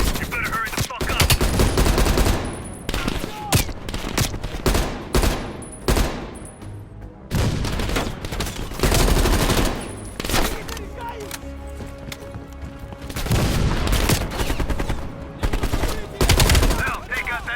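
Rapid machine gun bursts rattle loudly and nearly nonstop in a Call of Duty: Black Ops Cold War campaign battle, mixed with other gunfire and booms.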